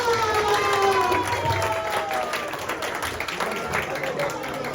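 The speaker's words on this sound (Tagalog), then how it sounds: "ihatag na to atong kinapusgang palakpak" Guests at an 87th birthday party clap and cheer as the honoree is introduced, lively applause with shouts and whoops, voices audible in the mix, fading slightly over a few seconds.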